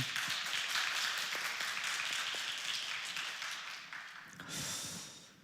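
At a Sunday morning service in a Korean church in Sydney, the congregation claps in a thick, continuous patter that gradually fades, followed by a brief rustling swell near the end.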